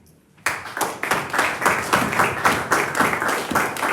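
A church congregation clapping in unison at a steady, rhythmic beat after a quiet moment, the claps bright and moderately loud, with faint voices beneath.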